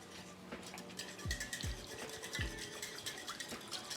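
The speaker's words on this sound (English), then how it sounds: "Add in your oregano and give that a little whisk." Lemon juice and oregano are whisked briskly in a bowl, giving quiet rapid scraping and ticking with a few sharper clicks against the side, close by with no talking.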